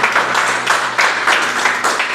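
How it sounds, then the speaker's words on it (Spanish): A church congregation gives a strong round of applause for the word of God, with dense clapping that swells in regular pulses and carries on steadily throughout. "Vamos a darle un fuerte aplauso a la palabra de Dios"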